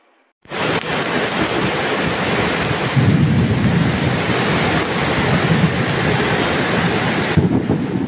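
A dense, steady roar of cloudburst-like heavy rain pouring down without letup in Badlapur town, loud and close, with a deeper rumbling swell through the middle.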